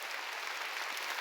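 Steady applause from a church congregation during a Sunday worship service, a dense even wash of many hands clapping together for the whole moment, with no talk over it.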